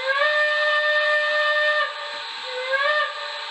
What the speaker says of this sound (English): Four, here's another whistle.